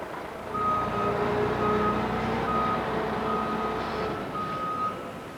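A lorry carrying chicken litter from local farms pulls in at a power station, its reversing beeps repeating steadily over a low engine rumble.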